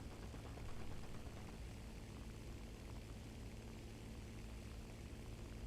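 Propeller engine of a Stuka dive bomber in War Thunder, heard from the cockpit as a steady, loud, muffled drone that holds constant throughout with no voices.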